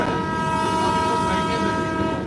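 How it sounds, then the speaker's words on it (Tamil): A train rolls through a narrow shop-lined street, its steady rumble and drawn-out horn tone filling the air, close and continuous without pause. "இப்போ இந்த கடை வீதி வழியாக அந்த ட்ரெயினே போகுது"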